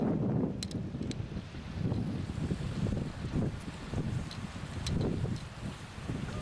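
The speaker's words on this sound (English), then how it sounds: "I'm being buffeted by wind out here." Strong wind buffets the microphone outdoors on a 1999 trip in Latvia, producing a continuous low rumble with gusty swells and no talking.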